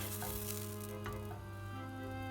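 Margarine melts slowly in a pan, giving a faint, soft, continuous sizzle under a steady low background hum.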